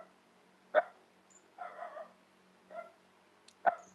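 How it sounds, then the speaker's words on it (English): A dog in a home barks a few times, with two sharp loud barks at the start and end and softer whining yips between them, heard nearby in a quiet room. "my dog barking."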